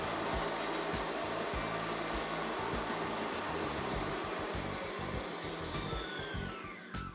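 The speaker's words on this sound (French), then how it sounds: "ça fait 2-3 minutes que les blancs sont en train de tourner sur vitesse 3-4 ou en accélérant" A Kenwood Major Titanium stand mixer whips egg whites at medium-high speed, giving a loud, continuous motor whir with a rattling, churning texture that holds steady throughout and eases slightly at the end.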